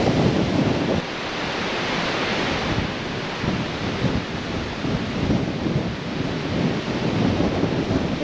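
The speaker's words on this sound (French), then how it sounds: "désolé, il y a beaucoup de vent." Strong wind buffeting a microphone outdoors by a canal lock, a loud continuous low rumble with gusty swells that sounds almost like thunder, with no voices.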